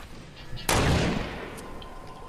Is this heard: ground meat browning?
no